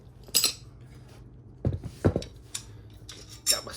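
Metal tire spoons for bikes clink and clatter as they are picked up and handled beside a scooter, a few sharp, close metallic hits spread out with quiet gaps between.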